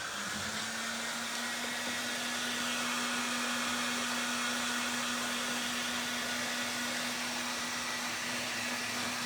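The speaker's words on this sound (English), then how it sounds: "I'm going to go back in with my heat gun." A heat gun blows steadily and loudly throughout, a continuous broadband rush with a faint steady tonal whine, used while shaping chalk-painted WoodUbend moulding on a Gothic table.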